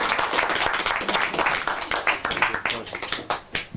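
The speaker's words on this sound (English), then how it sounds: "So I think a good round of applause to all." An audience at a Christmas session in a rambling house claps for live musicians: dense, close hand-clapping applause that carries on throughout, scattered and irregular, with a few louder individual claps.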